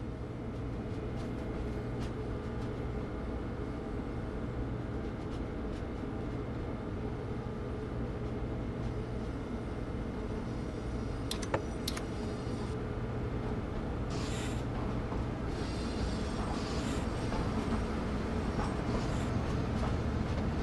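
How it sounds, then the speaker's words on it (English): A Boston Sprinter diesel multiple unit in Train Sim World 2 pulls away with a steady low engine drone and rail rumble. Faint clanks and squeaks break in now and then, and the sound stays constant and fairly subdued without speech. "This train is now ready to depart. Use the combined power handle to apply power and get moving."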